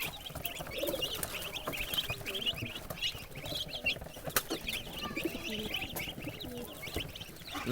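Chinese ducks and native chickens cluck and chatter continuously up close, a busy flock with scattered sharper calls over a steady hubbub.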